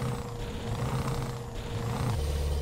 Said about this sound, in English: the sound of the truck is like snoring along